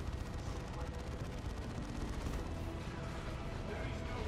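Sustained heavy gunfire and explosions from an assault cannon in Dawn of War 2: Retribution, a dense, continuous roar of rapid shots and booms in a large 3v3 battle.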